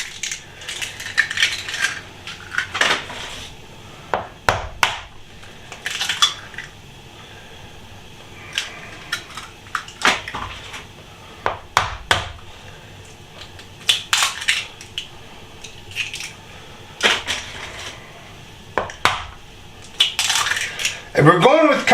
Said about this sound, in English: we're going to add 4 eggs